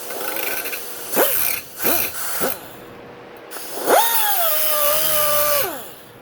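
A power grinder works at the steering stem bearing of a motocross dirt bike, with several short revving bursts and then a longer, loud, steady whine that rises and fades close by.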